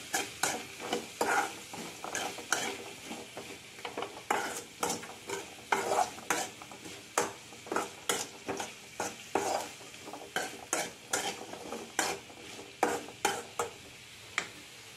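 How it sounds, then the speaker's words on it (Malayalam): Green beans for mezhukkupuratti are stirred with salt in a pan, a steady series of sharp scraping strokes against the metal repeating every half second or so over a faint sizzle, with no speech. "ആവശ്യത്തിന് ഉപ്പിട്ട് കൊടുക്കുക. നന്നായിട്ട് ഇളക്കുക."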